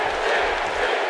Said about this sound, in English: And listen to this San Jose crowd. They are so incredibly passionate about their WWE action